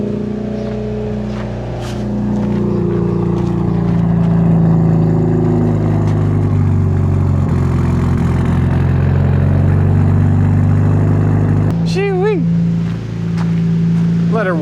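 Turbocharged Honda Civic engine idling steadily as it warms up, a continuous close hum with a person talking over it.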